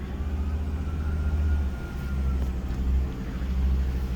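A 1971 Jaguar XJ6 Series I 4.2-litre engine pulls the car up a hill under added throttle, a steady low rumbling drone swelling and easing in waves, fairly close, with no talk.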